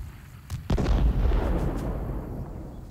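Explosions in a sci-fi action movie, a sharp crack followed by a deep booming blast that rolls and rumbles away over a couple of seconds, loud and without speech.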